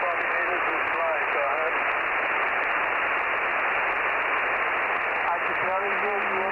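A weak ham radio signal comes through a vintage Mizuho 15-meter QRP handheld, with a faint warbling voice buried under loud, constant hiss and static throughout.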